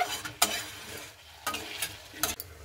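Chicken curry being stirred as it fries in oil in a pot, with three or four distinct scraping stirs over a low, steady sizzle, heard close and without talk.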